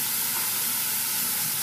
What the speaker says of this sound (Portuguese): Agora ele vai fritando aí nesse fogo baixo